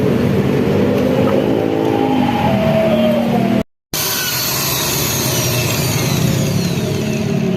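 A Honda Vega R motorcycle with a KRS exhaust muffler filter revs up, a loud, continuous engine roar that cuts out for a split second midway, then resumes at a steady, rough drone.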